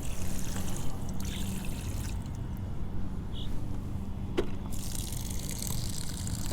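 Water pours and splashes steadily from a 10-litre camping shower nozzle, a continuous close trickling with a soft low background rumble.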